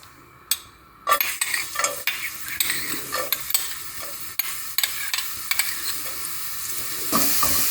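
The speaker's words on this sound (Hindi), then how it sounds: "ऑयल जैसे ही गर्म होगा, ऑयल में 1 टीस्पून चॉप्ड लहसुन ऐड करना है।" Chopped garlic fries in a little hot oil in a pan, a steady close sizzle broken by repeated clinks and scrapes of a spoon stirring against the metal.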